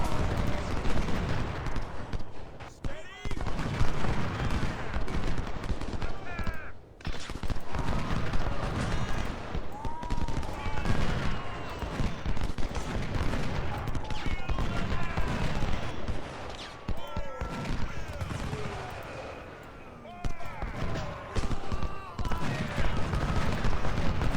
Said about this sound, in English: So these guys I'm going to go ahead and dismount and start firing into them